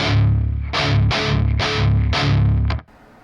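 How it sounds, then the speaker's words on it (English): Distorted electric guitar amp tone from a Tonex pedal with faint digital artifacts in the sound, a few heavy chugging chords that ring and then cut off abruptly, close and loud, no voices. "I don't know of another word to describe it other than like digital artifacts."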